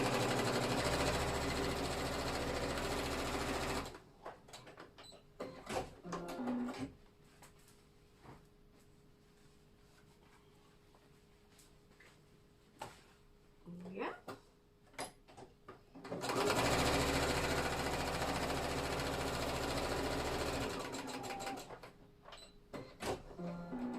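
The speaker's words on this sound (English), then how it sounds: "here we are, we've got the front pieces of the jeans, and it's just this top edge that I'm stay stitching" Sewing machine stay stitching the top edge of denim jeans front pieces, running in two loud steady bursts of rapid mechanical whirring, with a quieter stretch between them broken by small clicks and handling noises.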